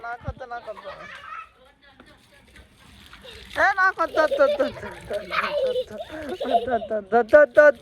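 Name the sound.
children splashing water from a pipe on a terrace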